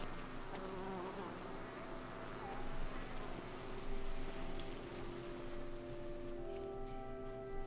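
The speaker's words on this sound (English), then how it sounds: "Those bees are so loud." Loud, continuous buzzing of bees in a fantasy video game, a steady droning swarm with layered hum that swells slightly midway and fades toward the end, with no talking.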